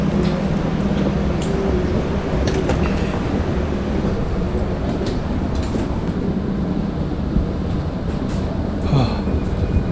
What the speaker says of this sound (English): The 14-minute train journey has begun.